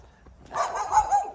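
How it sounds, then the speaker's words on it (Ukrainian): A dog barks in a village, a short burst of two or three rough barks at moderate distance standing out against quiet outdoor air. "Ну, тут пес почав гавкати, але ви знаєте, це ж село."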